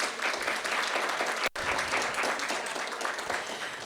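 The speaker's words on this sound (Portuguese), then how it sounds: "peço uma salva de palmas em agradecimento por tudo que já fizeram por nós" Audience applause fills the room at a public gathering. The clapping is steady and dense throughout, with a brief near-silent gap partway through.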